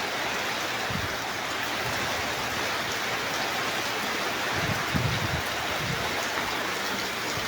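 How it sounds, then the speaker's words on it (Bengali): Hard, heavy rain pours down in a steady, dense hiss, with occasional low thumps of drops striking a nearby surface, and no voices. "পুরা বৃষ্টি হইতেছে"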